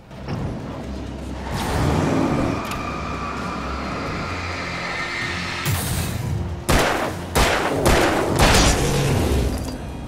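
Enemies shooting or throwing things at the player in the video game Alan Wake, with loud bursts and impacts over a rumbling game soundscape, clustering into a rapid flurry of sharp hits toward the end.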